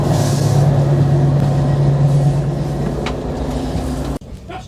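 Inside a moving train on the line out of Yarmouth: a loud, continuous engine and rail rumble with a steady low hum, ending in an abrupt cut to quieter running.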